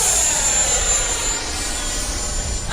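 An FMS 15th Anniversary Viper 70mm V2 electric ducted-fan RC jet flies overhead, a constant loud rushing whine with a thin high tone, holding steady throughout.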